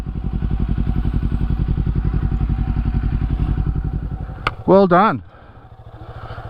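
Motorcycle engine idling while parked on a camping trip, a close, loud rhythmic putter that throbs steadily, then briefly drops and resumes more softly, with a short spoken remark over it.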